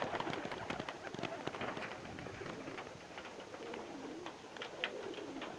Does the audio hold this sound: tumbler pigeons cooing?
yes